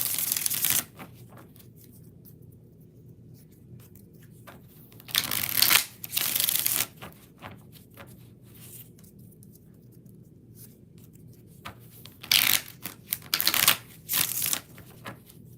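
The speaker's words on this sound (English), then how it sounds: "4 shuffles." Playing cards shuffled for a tarot or oracle reading, heard as several separate bursts of riffling and flapping, each a second or two long, with quiet gaps between them and no talk.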